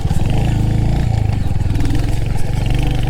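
Royal Enfield Hunter 350 motorcycle riding over potholes and big bumps, its single-cylinder engine thumping steadily up close with a low rumble and light clatter.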